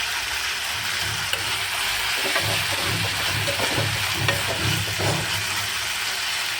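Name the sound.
mint, coriander and tamarind frying in a pan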